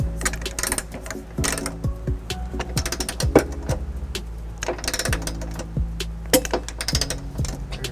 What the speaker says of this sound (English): This torque wrench here is gonna give us a popping noise.